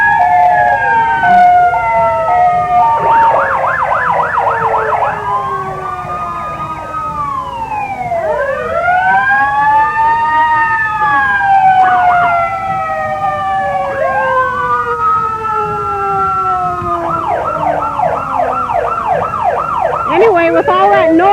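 An ambulance siren cycles loudly through rising and falling sweeps, switching between a slow wail and rapid yelp, close by and continuous, during the 1992 Neodesha Christmas parade.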